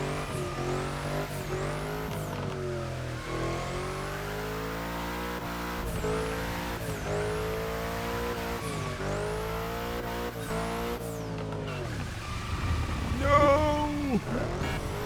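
A car drifts and slides in The Crew Motorfest, its engine revving in repeated rising and falling surges while tires squeal steadily, loud and close, ending in a rougher skid.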